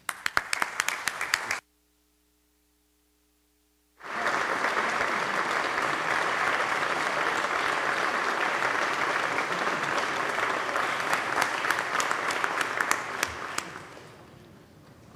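Applause fills the New York State Senate chamber as a youth hockey team is welcomed: a short burst, a complete pause of about two seconds, then a long steady round of clapping that fades out at the end.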